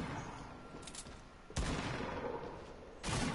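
Distant, muffled gunshots ring out in Fortnite, two sharp separated blasts over a low background rumble with no talking.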